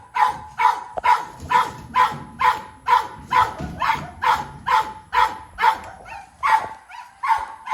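A dog barks repeatedly in a steady rhythm, roughly two barks per second, loud and close, with other barks and rustling noise underneath.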